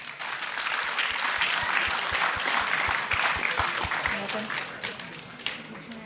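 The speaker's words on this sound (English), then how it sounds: "Let's give her a big round of applause." An audience at a closing ceremony prize presentation gives dense, sustained applause with a steady low thumping beat underneath, tapering slightly toward the end.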